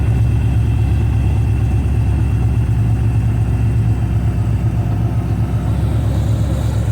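An oil-leaking car, left undriven for a long time, idles just after being started, a loud, close, steady low rumble with an even throb throughout and no voices.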